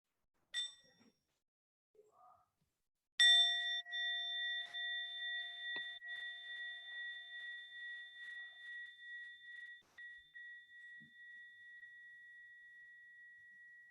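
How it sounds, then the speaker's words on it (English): A meditation bell struck once, with a clear metallic ring that sustains and slowly fades over about ten seconds, close and alone after a couple of faint taps. "Let's have a bell."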